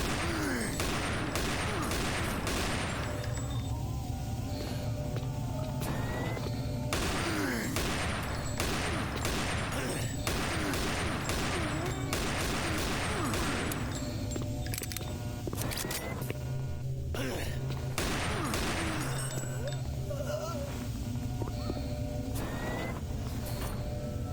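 Gunfire in the video game Doom 3, repeated loud bursts of shots in clusters across the clip alongside game effects, with no talk.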